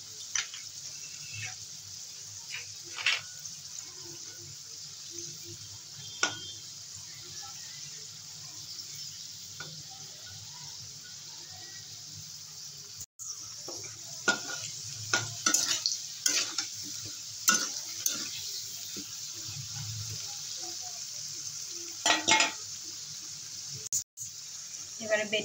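Cardamom, cinnamon and dried chilli frying in hot oil as a tempering for a pomfret fish curry: a steady quiet sizzle with scattered spatters, clinks and stirring scrapes, fairly faint and close.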